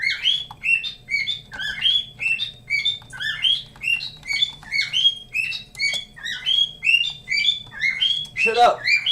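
A pet bird chirps and squawks rapidly and repeatedly, close and loud, in a busy rhythmic stream of sharp tweets ending with a harsher squawk.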